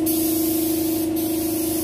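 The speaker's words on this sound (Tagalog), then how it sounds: "makapal yung spray mo sa top coat" A spray gun lays down automotive top coat paint in a steady, continuous hiss, loud and close, with a constant compressor-like hum beneath and no talking.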